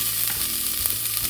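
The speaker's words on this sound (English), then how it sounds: "to the pan, we're going to add our onion. Add all of the onion." Onion for a marinara sauce sizzles and fries steadily in a pan, a close, even hiss with a few faint stir clicks and no voices.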